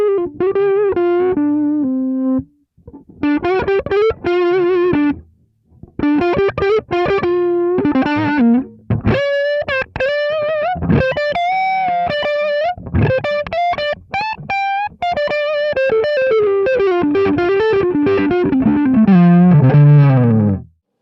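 Electric guitar played through an amp set hot with heavy overdrive, ringing chords and melodic runs with short pauses between phrases, loud and alone.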